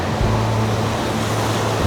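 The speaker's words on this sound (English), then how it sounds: "Standing in the ocean." Loud, steady rush of ocean surf close by, recorded while standing in the ocean, with wind buffeting the microphone and a low rumble underneath.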